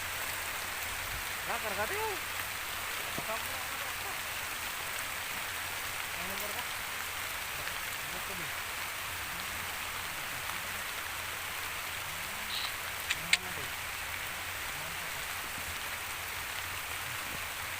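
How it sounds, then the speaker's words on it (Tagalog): Steady, soft rain patters down on farmland, a constant gentle hiss with faint voices now and then in the background. "Umuulan na naman sa gitna ng kabukiran."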